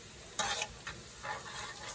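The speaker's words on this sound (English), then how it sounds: "Okay, so you guys hear that sizzling?" Garlic angel hair noodles sizzle in a hot pan, with several bursts of frying hiss as they are stirred, close and fairly loud with no talking.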